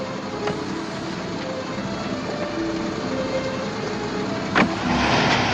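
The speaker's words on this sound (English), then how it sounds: "he starts doing a 3-point turn to back out the parking lot and back into the street" A car engine runs steadily as the car makes a quick three-point turn out of a parking lot and back into the street, in a 1950s film scene. The rumble holds near and even, with a brief sharp click near the end.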